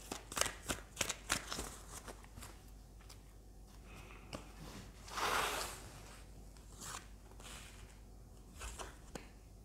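Tarot cards shuffled and drawn, faint close papery riffles and flicks, a quick burst of snaps early on, then a louder shuffling rush and softer scattered taps.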